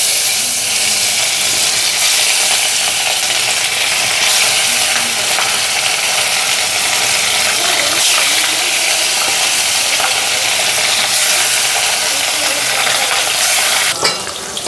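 Oil sizzling and sputtering loudly and continuously in a pan while cooking fish roe fritters, a bright crackling hiss with scattered pops throughout, ending in a brief louder burst.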